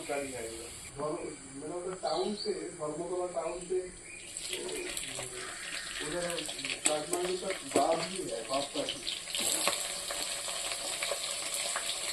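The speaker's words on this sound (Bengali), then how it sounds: "এর মধ্যে আমি পেঁয়াজ লঙ্কা আর ধনে পাতা প্রথমে দিয়ে দেবো" Onion, chili and coriander leaves hit a wok of hot oil already holding dried chili and cumin, and a steady sizzle builds beneath a person talking throughout.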